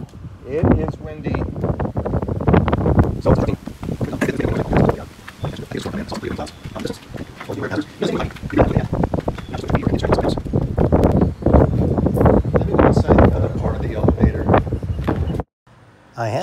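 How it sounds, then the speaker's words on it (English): Strong wind buffets the top floors of an abandoned high-rise condo in Thailand, a loud continuous roar with gusty bursts, under steady talk, cutting out briefly near the end. "It is windy."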